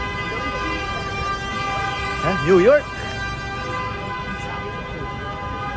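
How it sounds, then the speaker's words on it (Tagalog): Car horns honk briefly on a busy Times Square street in New York at night, a short wavering toot rising over steady traffic rumble, with a voice speaking nearby. "Yan ang busina ng New York."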